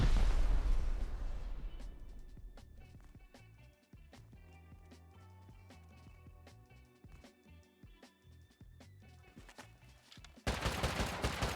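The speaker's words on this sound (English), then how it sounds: "I'm just gonna shoot this rocket though still" A rocket launcher in Rust goes off with a loud, booming blast that trails off slowly. Scattered clicks and small noises follow, then another harsh burst arrives near the end.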